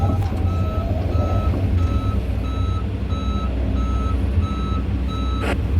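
Regular reversing alarm beeps from a boom truck loading heavy equipment, steady evenly spaced tones over a loud diesel engine rumble, close by with no talking.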